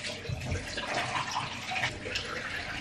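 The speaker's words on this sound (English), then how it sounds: "put it in some hot water" Hot water running steadily from a tap over a face cloth at a bathroom sink, a continuous close splashing wash with no talk.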